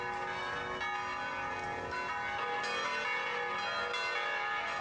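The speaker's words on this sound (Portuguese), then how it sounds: "Saía correndo, correndo e segurava no badalo do sino e batia no sino" Church bells rung by pulling the rope, a dense ringing wash of overlapping metallic tones with fresh strikes layered over sustained resonance, steady and fairly loud without voices.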